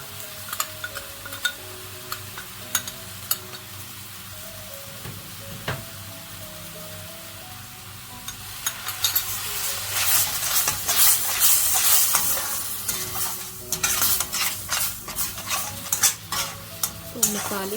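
Spice paste for an arbi curry fries in a pan, sizzling softly at first and then louder and spitting, with repeated scraping strokes of a spoon as it is stirred.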